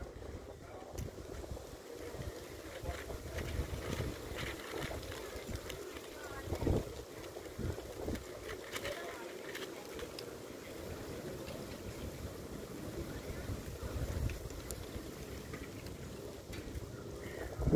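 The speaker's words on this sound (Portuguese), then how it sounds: "o vento não está deixando eu trabalhar" Outdoor wind buffets the microphone in low, uneven gusts that roar and drop, steady throughout and loudest in a few bursts, with a voice speaking over it.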